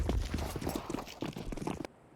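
Quick, rhythmic footsteps in Counter-Strike on the Anubis map during a professional esports match, a close run of thudding steps that cuts off abruptly at the end.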